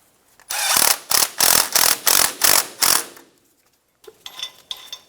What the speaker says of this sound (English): 10mm socket, we're going to tighten the screw down